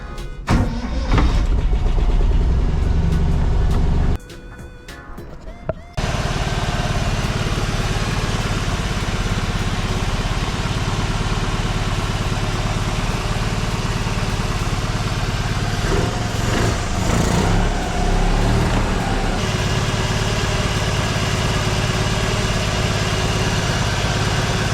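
A Toyota Publica 800 engine with the choke pulled runs close and loud, its rough opening running breaks for a brief quieter moment, then settles into a steady, even idle that continues to the end.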